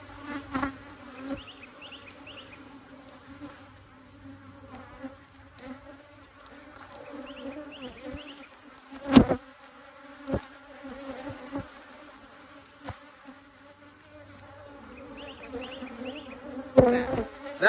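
Honey bees buzz close around an open hive during a brood inspection, a steady droning hum with individual bees whining past near the microphone, plus occasional knocks and frame handling noises.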